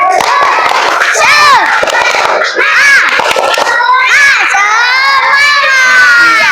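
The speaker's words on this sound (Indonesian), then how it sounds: "Yuk kita tepuk semangat." A class of children chants a rhythmic spirit cheer together with sharp claps, loud and close, voices shouting in unison throughout.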